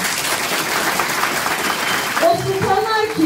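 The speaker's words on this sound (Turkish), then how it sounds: "Sahanın sultanlarına, kadınlara ekstra bir alkış istiyorum." Audience at a political women's branch event applauding the women, dense, sustained clapping from a large crowd, with a voice speaking over it toward the end.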